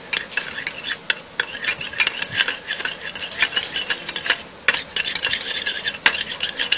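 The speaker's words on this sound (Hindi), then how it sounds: "इसे हम मिक्स कर लेंगे।" A spoon stirs yogurt and squeezed lemon juice together in a bowl, a steady scraping and rubbing rhythm of repeated strokes, close and alone without talk.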